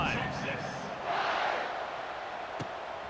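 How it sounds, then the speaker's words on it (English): Stadium crowd in EA Sports College Football 26 roars steadily as the kickoff unit takes the field after a scoring drive, a broad, continuous wash of cheering that swells slightly midway, with no voices standing out. "this crowd is feeling themselves after that last drive"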